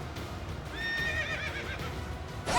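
A horse neighs in the Fire Emblem Three Houses video game, a clear rising and falling whinny mid-clip over soft game ambience, ending in a sudden louder burst.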